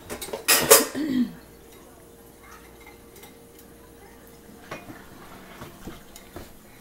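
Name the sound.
stirring a pot with a utensil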